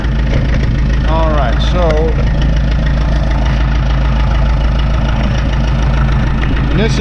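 A 1952 McCormick Super WD6 tractor engine idles steadily and loudly up close, a continuous low rumble with its rpm slightly raised, while someone talks briefly over it.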